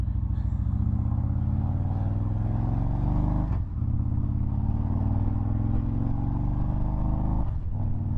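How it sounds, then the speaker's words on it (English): A 2012 Victory Vision motorcycle cruises along the road with a steady, loud engine drone and wind rumble, dipping briefly twice as if shifting gears. "Get on the road for our quick ride on the Vision"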